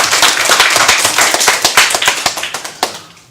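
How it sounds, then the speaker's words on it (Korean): A church congregation claps their hands loudly together in a dense, rhythmic burst of close, sharp claps that thins toward the end, with no talking over it. "같이 박수 크게 한번 치겠습니다."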